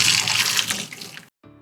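Hot water poured from a pot over a turkey to scald it, a close, splashing flow that runs steadily, thins out and stops abruptly, then a faint trickle follows.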